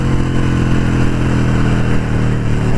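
A Harley-Davidson Sportster 883 Iron motorcycle accelerates hard, its deep, throbbing V-twin engine loud and close with a steady, heavy rumble the whole time.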